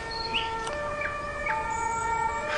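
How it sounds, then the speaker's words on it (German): A German emergency vehicle siren, a Martinshorn, sounds as a steady tonal wail that shifts pitch between two notes, fairly close and alone without talk. "Und das ist ein Martinshorn."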